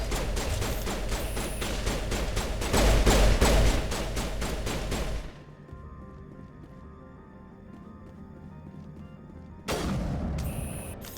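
Pistol fire in Mass Effect: a fast string of sharp shots for about five seconds, then a quiet lull with faint ambient hum, then another burst of loud firing near the end.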